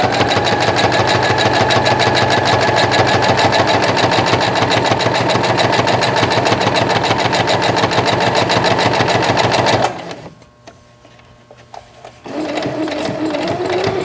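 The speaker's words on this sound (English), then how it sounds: "We're using a zipper foot. And we're just going to go ahead and just sew around." A sewing machine fitted with a zipper foot stitches along stabilized fabric and piping with a fast, steady mechanical whir for about ten seconds, then stops briefly before starting up again.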